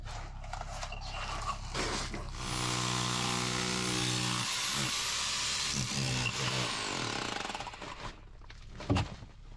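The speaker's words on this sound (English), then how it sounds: "this little jackhammer is very satisfying. Just carving that bank away nice and square and true" A small jackhammer chips away at a dirt bank inside a hand-dug tunnel, a close, loud rapid rattling burst lasting several seconds and then tapering off, with some brief shuffling around it.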